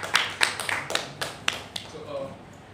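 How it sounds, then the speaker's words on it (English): A handful of separate claps, fairly close and soft, rings out for a speaker at a Toastmasters club meeting at IIT Madras, then tapers off quickly. "a good round of applause for him"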